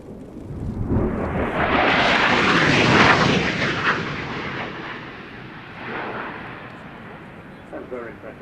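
A MiG-29 jet fighter makes a fast display flypast at an air show, swelling into a loud, roaring rush of engine noise as it passes close. The roar then fades into a distant rumble.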